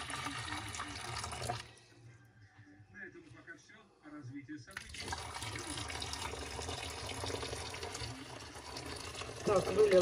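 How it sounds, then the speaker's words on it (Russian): Boiling water is poured into a frying pan being cleaned. A steady splashing pour stops for a couple of seconds and then resumes, with a voice faintly present. "Заливаем внутрь кипяточек, как мы делали с вами чайничек."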